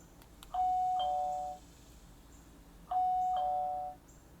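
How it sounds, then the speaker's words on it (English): A Skybell HD video doorbell plays a short multi-note electronic jingle twice while resetting. Each chime is clear and close, with a quiet pause between them and no speech. "If it cycles through, you'll hear a little bit of jingle."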